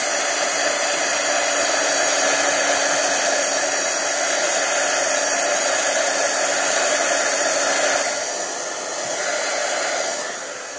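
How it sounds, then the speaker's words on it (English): Heat tool blowing hot air over ink on a handmade card, a loud steady whirring roar close to the microphone that dips briefly near the end, with no talk. "I'm just going to take my heat tool, and I'm just simply going to blow over it to help it dry real quick."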